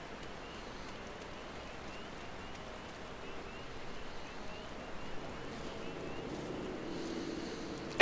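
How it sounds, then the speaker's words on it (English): Steady rain falling in Final Fantasy XIV: A Realm Reborn, a continuous even hiss of drops on surfaces that swells slightly toward the end, with no voices. "Rain, rain, go away. Don't come back another day."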